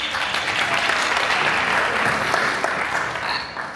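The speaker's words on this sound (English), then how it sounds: "Huge applause." A gala audience breaks into loud, sustained applause, dense clapping from many hands that stays full before easing slightly near the end.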